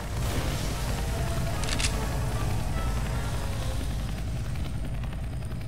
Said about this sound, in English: Oh, I hear the helicopter.